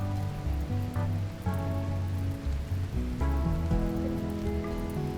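Rain falling in the video game RimWorld, a steady hiss of drops on surfaces mixed with tonal game music underneath, moderately quiet and continuous.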